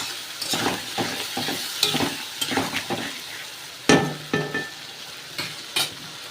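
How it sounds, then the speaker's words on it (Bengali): Spice masala and potatoes sautéing in hot oil for a fish curry, with repeated sharp spatula scrapes and stirring strokes over a bubbling sizzle, close and fairly loud, no voices. "তো এবার আমি বেশ কিছুক্ষণ ভালো করে কষিয়ে নেব।"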